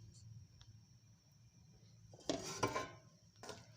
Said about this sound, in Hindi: सबसे पहले हमने कढ़ाई को चूल्हे पे रखा है और इसमें हम 2 चमची ऑयल डाल लेंगे